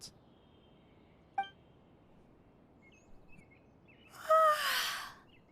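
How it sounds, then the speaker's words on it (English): A female video game character lets out a single breathy yawn near the end, a rising then falling voiced exhale lasting about a second, clear over a quiet background with a short click earlier on. "Oh, she yawns?"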